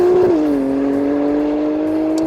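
A 1200-horsepower Nissan GT-R AMS Performance Alpha 12 pulls hard at full throttle, its engine note dipping briefly and then holding a loud, steady, droning tone, close by and alone.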